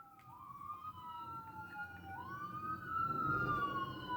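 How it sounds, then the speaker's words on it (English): An ambulance siren wails outside, its long rising and falling tones carrying clearly from a middle distance over low traffic rumble, with no talking. "Oh, y'all hear the siren"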